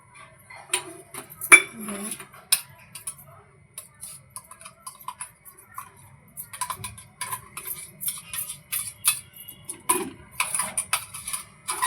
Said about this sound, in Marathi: आता आपण एका भांड्यामध्ये काढून घेऊया चटणी